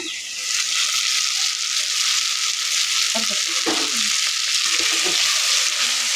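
Turkey berries (sundakai) sauté in hot oil with salt in a pan for kuzhambu, a loud, steady hiss of frying with a few short scraping stirs toward the end.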